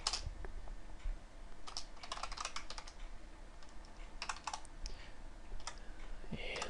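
Fast keystrokes on a computer keyboard while C++ code is typed out, with clicking clusters in quick bursts and short pauses, close and steady over a low background hum.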